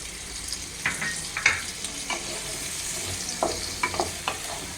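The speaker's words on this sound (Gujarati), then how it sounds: "આપણે એમાં જે ટમેટા સુધારીને રાખ્યા છે એ આપણે એમાં એડ કરી દઈશું." Chopped tomatoes hiss and sizzle as they hit softened onions in a pan for a cashew masala curry gravy, a steady frying crackle broken by several sharper spits and stirring scrapes, close and alone.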